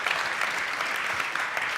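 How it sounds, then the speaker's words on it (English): Steady audience applause fills a tech conference hall, a dense even patter of many hands clapping without pause for the whole short stretch; no voices stand out above it. "please clap for them"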